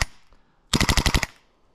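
An airsoft gun modeled on a Modern Warfare 2 weapon fires a short burst of about seven rapid, evenly spaced shots, loud and close, after a faint click, with no talking.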